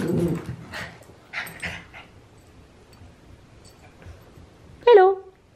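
A dog gives a sharp, close whine or yelp near the end, following soft scuffling, rustling and someone talking over faint background sounds.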